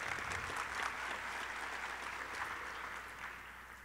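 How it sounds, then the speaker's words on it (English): An audience at a talk on trauma and healing claps for a few seconds, a soft, fairly distant burst of steady applause that tapers off gradually. "clap for that too"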